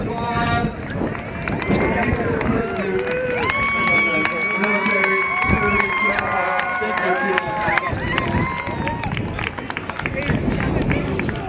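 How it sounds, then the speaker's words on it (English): Crowd applause and cheering at a minor league baseball game, dense sustained clapping mixed with music and voices throughout, loud and close. "One more round of applause."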